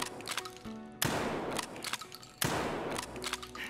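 A KS-23 shotgun loaded with Barricade ammo fires in a video game. Two booming, heavy blasts are spaced over a second apart, and each one rings out in a long, loud tail over a steady background hum.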